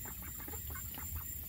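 Ducks quacking steadily at close range while being fed, a continuous low chatter of quacks over a noisy outdoor background with a high constant whine.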